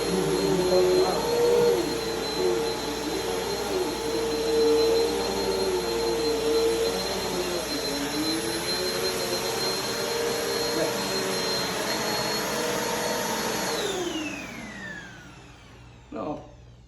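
A vacuum cleaner drones steadily on carpet, loud and close with a whining motor pitch that shifts slightly as it moves, then winds down near the end, followed by a brief knock.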